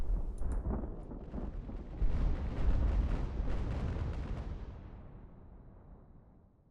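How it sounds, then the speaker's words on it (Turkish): A naval cannon salvo booms out in an Age of Sail naval battle game, a cluster of heavy, rumbling blasts that swell to a loud peak and roll away into a long fading echo. No voices are heard. "Hadi yavrum bir salvo daha."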